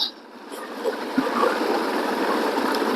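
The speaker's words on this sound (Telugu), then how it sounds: "ఇంత మొత్తం మంచు మెల్ట్ అయిపోయి వాటర్ ఎట్లా అవుతుంది చూడండి" Meltwater from melting snow streams steadily at Zoji La pass, a continuous broadband rush of flowing water that holds even throughout, with no voices over it.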